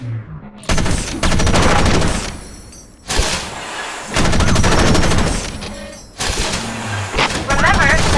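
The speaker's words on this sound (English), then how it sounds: "The machine gun is equipped in your right hand." Machine gun fire in the mecha video game Front Mission Evolved, loud sustained bursts of rapid gunfire in three long volleys separated by short pauses, with faint game effects in the gaps.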